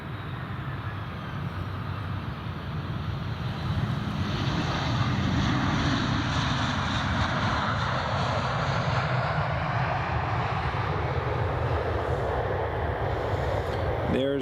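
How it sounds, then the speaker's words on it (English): An EasyJet airliner comes in to land at Edinburgh Airport, a steady, continuous jet roar that swells slightly as it nears and holds for the whole span. "There comes EasyJet, just about to land"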